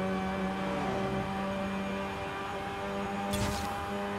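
A modified, abandoned-then-restored Mazda RX-7 drifting in Forza Horizon 5, its rotary engine holding a steady, sustained drone with a brief sharp burst near the end, no talk over it.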